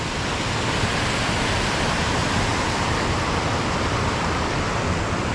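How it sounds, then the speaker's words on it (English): Careyburn Waterfall pours in a continuous, dense roar of falling water, steady and loud from start to finish with no voices. "So that's CAREYBURN Waterfall, people"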